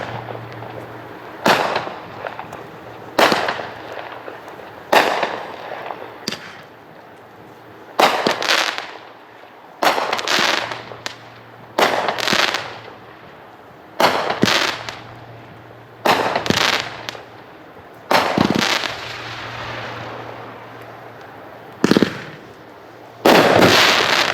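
A fireworks demonstration, ending with the firework The Party Never Ends, bursting in repeated loud booms and crackles, about a dozen blasts spaced a second or two apart, with rumbling pauses between.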